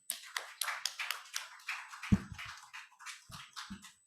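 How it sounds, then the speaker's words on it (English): Applause at an industrial hemp forum for a panel speaker and moderator: a small audience clapping in separate, fairly sparse claps, with one louder nearby clap partway through and a few lingering claps at the end. "Please give our panel speaker and moderator another round of applause."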